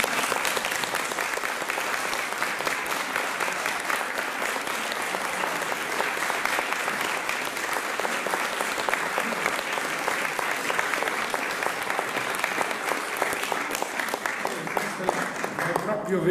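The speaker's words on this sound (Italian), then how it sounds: "facciamo un applauso" Sustained applause from an audience at an Italian gathering in Cremona, a dense, even clapping that carries on steadily for over fifteen seconds with faint voices underneath.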